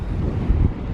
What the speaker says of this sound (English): excuse the wind